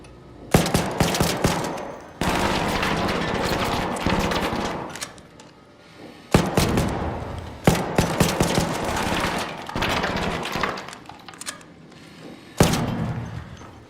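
Turret gunfire in the Arc Raiders shooter, loud automatic bursts in several separate volleys with short gaps between them, mixed with heavy thuds and impacts, and no talking.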